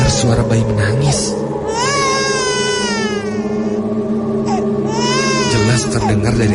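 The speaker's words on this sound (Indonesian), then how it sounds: "terdengar suara bayi menangis" An infant wails in repeated rising and falling cries over a steady low drone, a sound effect within an Indonesian horror radio story set in a hotel elevator; the crying is loud and close, pausing briefly before resuming.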